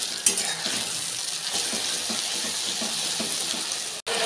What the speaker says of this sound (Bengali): তো চিকেনটা কষা বসিয়ে দিয়েছি